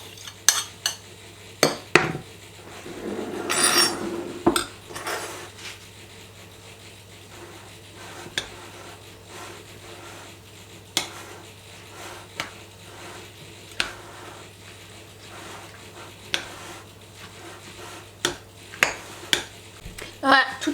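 Sauce is mixed into shredded carrot and cabbage in a bowl, with a spoon knocking and clicking against the sides in irregular bursts and soft stirring between, while a voice is heard at times.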